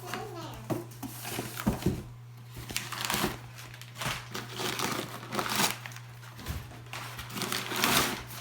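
Paper packing crinkles and crumples in repeated bursts up close as a box of Belltech drop springs is unboxed, rustling as it is handled, with a voice chattering intermittently over a low steady hum.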